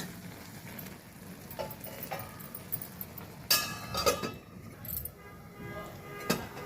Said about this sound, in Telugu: మరొకసారి మూత పెట్టి ఉంచుతాను.